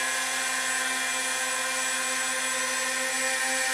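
A Walkera Scout X4 quadcopter hovers close by with a steady, loud, high-pitched motor whine that stays even throughout, with no talking.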